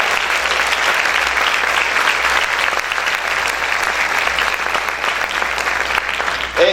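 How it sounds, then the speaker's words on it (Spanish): A church congregation applauds loudly for the Lord in a dense, continuous roar of many clapping hands that holds steady for nearly seven seconds. "Vamos a aplaudir fuerte al Señor"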